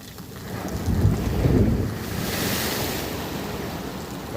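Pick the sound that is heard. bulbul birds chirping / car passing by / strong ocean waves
strong ocean waves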